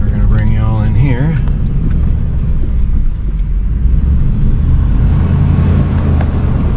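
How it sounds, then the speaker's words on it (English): A vehicle crawls over mucky, muddy ground on a tree farm, its steady low engine rumble running close and constant while people talk over it. "A little mucky, so try not to get stuck or too much tire spinning"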